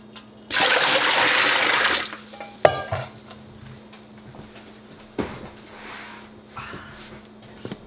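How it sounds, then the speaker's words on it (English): Fresh tomatoes being washed for canning: a burst of running, splashing water, then intermittent clinks, knocks and sloshes as the fruit is handled in a basin, close up, with no speech. "you've got to wash your tomatoes"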